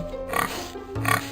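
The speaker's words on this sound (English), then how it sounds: "3 pigs." A pig gives two short, nasal oinks in quick succession, close and clear with nothing else around it.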